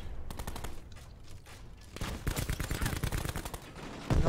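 Gunfire crackles in Call of Duty: Modern Warfare, a quieter patter of shots giving way to loud, rapid bursts of repeated cracks that grow denser and closer toward the end.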